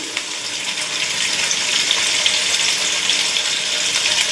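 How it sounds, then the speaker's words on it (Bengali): Paneer fries in a couple of spoonfuls of hot oil, giving a steady, close, bright sizzle that crackles without pause and swells slightly partway through. No one speaks. "আমি এই তেলে পনিরটা একটু সফট করে নেব"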